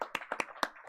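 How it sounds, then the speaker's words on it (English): A handful of brisk hand claps from the audience at a board of education meeting, sparse and uneven, quick and fairly close, with no talking over them. "Let's go ahead and give them one more round of applause."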